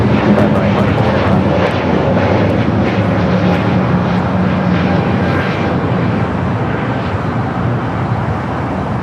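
Airliner departing LAX, a steady, loud jet roar that holds constant throughout as the aircraft climbs out, with broadband engine noise and no talking.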